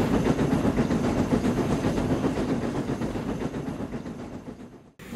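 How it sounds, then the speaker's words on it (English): A works train runs along a main line, a loud, steady rolling rumble with a rhythmic clatter of wheels over rail joints that eases slightly before cutting off abruptly near the end. "A works train was soon dispatched from Croven's Gate."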